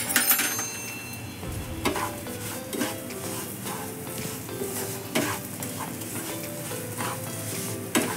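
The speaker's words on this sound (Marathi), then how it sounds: "तुपात चांगले तळून निघतील" Almond slices, cashew pieces and charoli frying in ghee with semolina for mango sheera: a soft, steady sizzle broken by repeated clinks and scrapes of a spoon against the pan as it is stirred.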